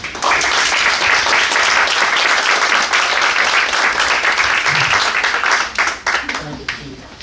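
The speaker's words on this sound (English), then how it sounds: "please give a great round of applause for Ron Reagan" An audience at a law enforcement presentation event gives a round of applause, dense clapping filling the room steadily for several seconds before thinning and tapering off near the end, with a voice faintly audible.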